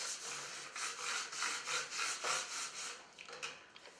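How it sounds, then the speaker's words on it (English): A vinyl wall decal is rubbed firmly onto its transfer sheet. Rhythmic rasping strokes repeat about twice a second, close and fairly quiet, with no voices. "Once I've rubbed the decal"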